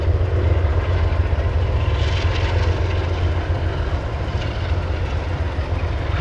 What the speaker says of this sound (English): We got intermodal I-044 going through Lakeland.